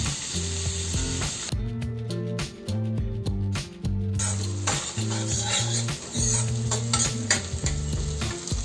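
Onions with ginger sautéing for masala rajma give a steady sizzle with repeated stirring scrapes, heard close up under prominent rhythmic background music.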